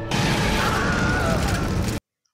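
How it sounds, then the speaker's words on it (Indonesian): A bomb explosion in an action film bursts as a loud, dense roar with rumbling debris, sustained for about two seconds before cutting off sharply into silence. "Mendengar ledakan bom"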